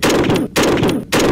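Loud, close video-game gunfire at police officers, fired in three rapid automatic bursts separated by short pauses, heard alone with no talking.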